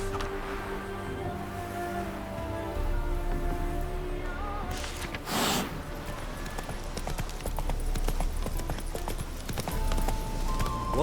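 Roach the horse's hooves clip-clop in a steady rhythm in The Witcher 3, mid-loud over ambient game music and background noise, with a brief whinny-like burst partway through.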